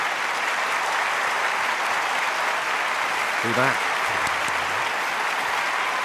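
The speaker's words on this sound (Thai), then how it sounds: "ขอเสียงปรบมือดังๆครับ" Audience on a Thai TV singing competition claps loudly and continuously in a dense, steady roar, while a voice speaks briefly over the applause partway through.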